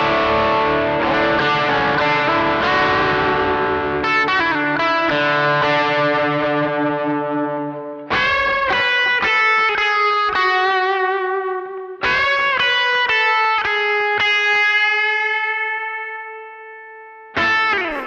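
Electric guitar through a TS9 overdrive pedal plays sustained chords and ringing notes, heavy overdrive, several separate strums with long decays, loud and unaccompanied.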